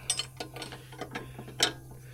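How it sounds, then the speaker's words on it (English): A wrench tightens the CV axle nut on a Mercedes C300 4matic W205, giving a short run of irregular metallic ratchet clicks up close over a low steady hum. "with the wrench, I'm gonna tighten it down until it sits"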